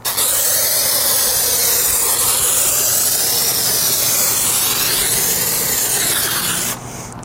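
A steady, loud hiss of cleaner spraying from an IK 1.5 pump sprayer onto bug remains runs continuously for several seconds, then cuts off near the end.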